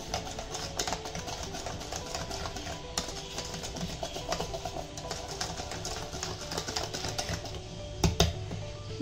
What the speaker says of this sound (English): I'm whisking it so that the flour mixes well